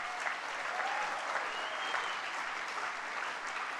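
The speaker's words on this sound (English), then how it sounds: "Give him a round of applause" A room of guests gives steady, continuous applause for former AFL footballer Nicky Winmar at a Hall of Fame dinner, a dense wash of clapping throughout.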